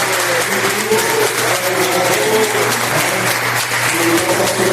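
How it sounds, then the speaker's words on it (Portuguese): An audience applauds steadily at a lecture in a Portuguese-speaking hall, dense clapping loud and continuous throughout, with a faint voice briefly heard beneath it. "Então, por favor, uma salva de palmas."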